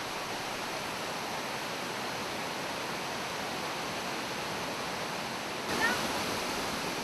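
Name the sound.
Bantimurung waterfall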